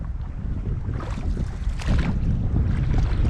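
Strong wind buffets the microphone beside a lake at the summit of a mountain pass, a loud steady roar with gusts swelling and easing, no voices.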